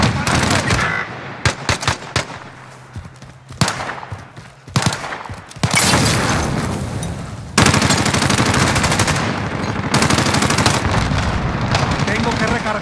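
Loud, close machine gun fire in Call of Duty: Modern Warfare online play comes in rapid bursts, short volleys at first, then longer sustained strings of automatic shots with brief gaps between.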